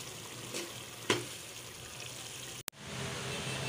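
Minced meat with whole spices and whole garlic pieces frying gently in a pan, a steady close sizzle with a couple of brief stirring clicks and a sharp knock near the end.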